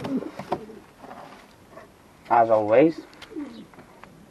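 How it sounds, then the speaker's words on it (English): Doves coo in a loft holding racing pigeons and nesting birds: a single loud, close, throaty coo rises over quiet background, with someone talking before and after it. "Now we got doves on the bottom."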